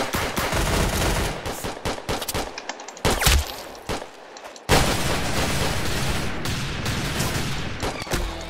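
Dense rapid gunfire in the Roblox shooter Arsenal, loud and continuous bursts with brief pauses, a free-for-all match crackling with overlapping shots throughout.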